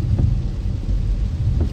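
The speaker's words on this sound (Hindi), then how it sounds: "अब यहाँ बारिश गाइस तेज होने लग गई है" Heavy monsoon rain pours in a dense, steady roar with low rumbling underneath, close and loud throughout, on the drive from Chandigarh to Shimla.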